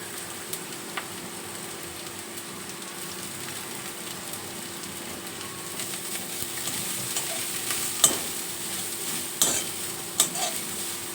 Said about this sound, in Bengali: এইভাবে হালকা সাদা তেলে ভেজে নিলে